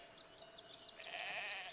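Sheep bleating at a sheep farm in the Foundation city-building game, a faint, short wavering bleat or two over quiet background.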